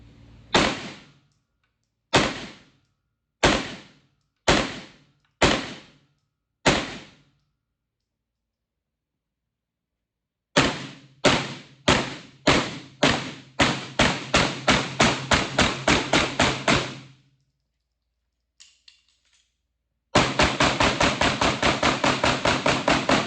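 Shots from a Walther PDP Compact 4-inch pistol crack sharply and loudly, first as six single shots spaced about a second apart, then as a rapid string of about fifteen quicker shots, then a faster final burst.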